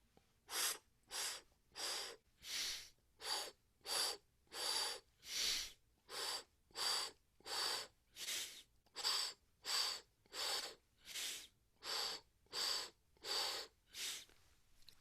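A three-stroke breathing exercise: about twenty deep, forceful breaths come close to the microphone in a steady, even rhythm, each one a sharp rush of air with brief quiet between.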